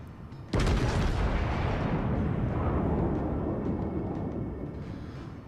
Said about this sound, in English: Let's see how that salvo does.